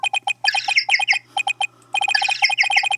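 A chirpy, penguin-like electronic phone ringtone from the video game Phoenix Wright: Ace Attorney – Dual Destinies, rapid squeaky beeps repeating in two bursts with a short pause between them.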